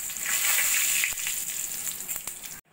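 Cumin, bay leaf and two cardamom pods hit hot oil left from frying boal fish, giving a steady, close hiss with faint crackles that cuts off abruptly near the end.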